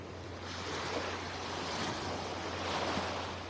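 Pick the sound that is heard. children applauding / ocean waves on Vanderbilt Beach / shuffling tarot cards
ocean waves on Vanderbilt Beach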